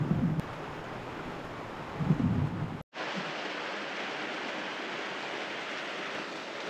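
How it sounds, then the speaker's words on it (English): A rain squall hammers a sailboat crossing the Pacific Ocean at night, a dense, steady hiss of downpour with a brief break midway before it resumes. "I can hear the rain."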